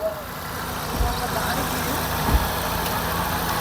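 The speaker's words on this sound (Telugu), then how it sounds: "ఇంజన్ బీటింగ్ కూడా చూడండి" Hyundai i10 LPG and petrol car engine idling, a steady low hum with faint knocking pulses, heard up close and fairly quiet with broadband background noise.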